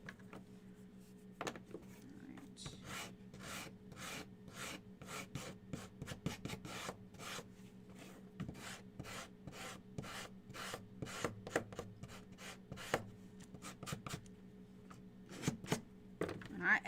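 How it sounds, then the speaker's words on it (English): Wooden birdhouse kit pieces are sanded by hand in quick, repeated rasping strokes, soft and close, with a steady faint hum underneath. "Extra sanded that."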